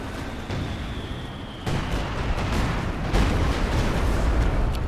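Heavy explosion rumble as a vehicle is destroyed in the Company of Heroes 2 strategy game, with thick broadband booms layered over continuous battle noise and a fresh blast near the end.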